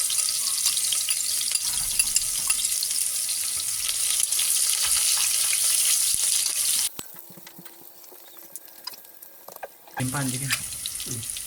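Garlic and onions sizzling in a cooking pot, a loud steady hiss for several seconds that suddenly drops away, followed by quieter clinks and a short burst of stirring noise, with no speech.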